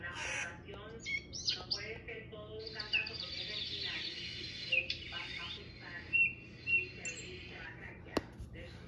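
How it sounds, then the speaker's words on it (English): Birds in a children's animal cartoon chirp and tweet in quick, scattered bursts, fairly quiet and close, with short pauses between calls. "This is a bird. Birds can be found everywhere."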